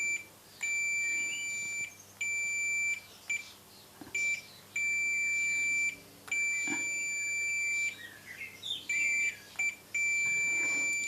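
Multimeter connected to a homemade CNC touch probe, giving a clear high electronic beep repeated in on-off bursts of varying length as the probe is touched, close and alone.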